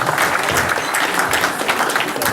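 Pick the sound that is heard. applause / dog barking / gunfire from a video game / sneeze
applause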